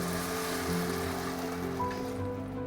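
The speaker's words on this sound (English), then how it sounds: "Two cups water." Water poured into a pan of rice over medium-high heat, a steady broadband splashing and hissing that stays loud and continuous throughout, with no talk.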